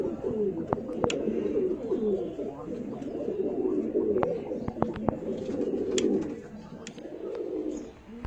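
Andha Phulshira pigeons coo softly and repeatedly nearby, their low rolling calls overlapping, with sharp clicks and brief rustles scattered through.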